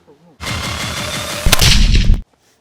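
A rifle fitted with a Steel Pegasus L suppressor fires close by, with a loud burst of noise containing one sharp crack that cuts off abruptly into quiet.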